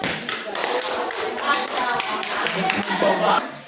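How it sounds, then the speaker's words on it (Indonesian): A classroom of students claps together in a busy, uneven burst of hand taps, fairly close and loud, lasting a few seconds. "Tepuk tangan."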